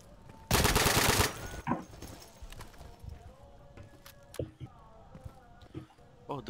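A loud burst of automatic rifle fire in a co-op Insurgency match against bots, followed by scattered fainter shots and clatter while players talk over it.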